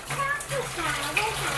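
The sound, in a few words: child playing with water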